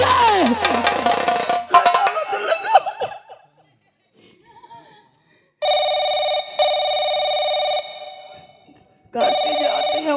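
A telephone rings in loud, sustained electronic bursts, starting after a stretch of laughter and voices and then repeating after a short pause.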